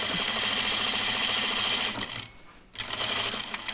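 A sewing machine stitching a seam on a uniform tunic runs at high speed with a steady, dense mechanical whir and vibration, pauses briefly near the end, then starts again, close and loud with no talk.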